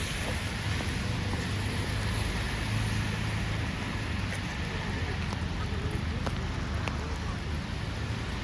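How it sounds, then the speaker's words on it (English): Steady rain falls over a Stockholm city street in Sweden, a dense continuous hiss of drops on pavement with a low background rumble and occasional faint ticks, heard from a walking position. "walking in the rain in Stockholm City"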